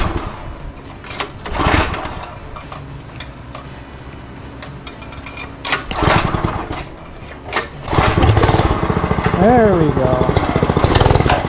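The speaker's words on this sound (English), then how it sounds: "So cold start, see how many pulls it takes." A budget mini bike's small engine is pull-started cold: a couple of rasping cord pulls, then it catches and settles into a steady, close, buzzing idle, with someone speaking briefly.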